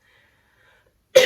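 A single dry, unproductive cough bursts out close and loud after a near-silent pause, with no talking around it.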